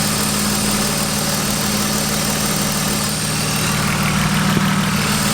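A BMW engine idles steadily after a dose of Lucas Oil Stabilizer, with a continuous even rumble and a faint ticking running through it, close up and with no voices.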